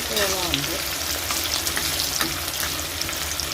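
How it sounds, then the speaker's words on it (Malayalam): Chopped onions sautéing in oil in a pan for a chickpea curry, a loud continuous sizzle with scraping stirs, close and busy from start to finish. "അതിൻ്റെ കൂടെ തന്നെ നമ്മൾ ഉള്ളി അരിഞ്ഞു വെച്ചത് ചേർത്ത് കൊടുക്കാം. നന്നായിട്ടൊന്ന് വഴറ്റിയെടുക്കണം."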